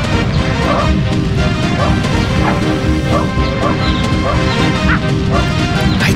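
A dog barks and yips in the video game Rosco McQueen Firefighter Extreme, with repeated barks over dense, loud game noise full of crashes and thuds.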